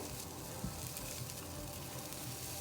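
Onions sizzling as they fry in a pan for a vegan Thai dish, a dense, even crackle heard up close without pause.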